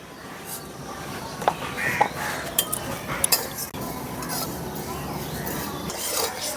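Cumin seeds are tossed into a pan with lightly fried whole coriander and stirred, bringing sharp clinks of a spoon against metal over a soft, steady sizzle at low volume.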